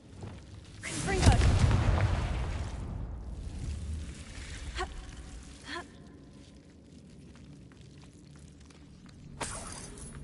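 A Confringo explosive spell fires in Hogwarts Legacy, a heavy booming blast with a rumbling, crackling tail that slowly fades, followed by sharper impacts and a later burst, with speech mixed in.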